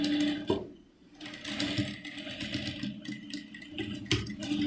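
A sewing machine stitches an underskirt in a steady, close mechanical whir with rapid needle chatter, pausing briefly near the start before running on continuously.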